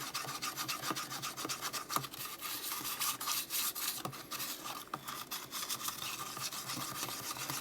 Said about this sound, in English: Give it a quick stir. I'm just trying to mix in the pigment.